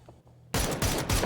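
Gunfire in the battle royale game PUBG, played on the Rondo map during a league match: after a quiet start, a loud, dense burst of rapid shots erupts and keeps crackling as a sustained fusillade.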